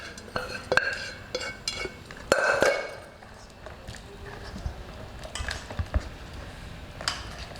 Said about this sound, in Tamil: இந்த மட்டனை எடுத்து நம்ம அரைச்சி வச்சிருக்கிற மசாலாவில் போட்டு மிக்ஸ் பண்ண போகிறோம்.